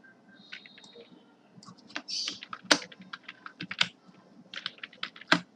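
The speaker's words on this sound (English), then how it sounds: "You have to just type in the relevant stuff in the correct places." Close fingers type code on a computer keyboard in irregular bursts of sharp clicking keystrokes, with occasional louder key presses and short pauses.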